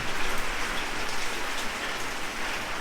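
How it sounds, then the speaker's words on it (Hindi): Heavy rain pours steadily at night outside a long-shut old mansion, a dense, continuous hiss of drops drumming on surfaces with no voices over it. "और बारिश बहुत तेज़ हो रही है।"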